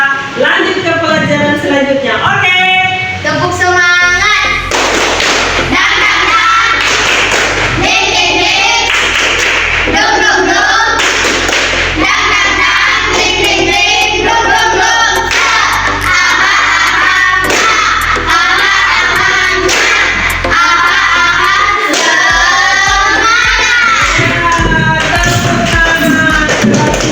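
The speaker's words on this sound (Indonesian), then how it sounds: "Tepuk semangat." A class of schoolchildren performs a rhythmic spirit clap, the claps loud and patterned, with children's voices chanting and calling along throughout.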